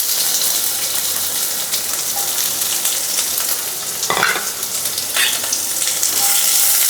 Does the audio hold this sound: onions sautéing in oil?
yes